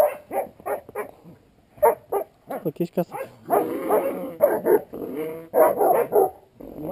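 A hunting dog barks repeatedly, sharp and close, in quick bursts mixed with growls and whimpers, while people talk and call out around it.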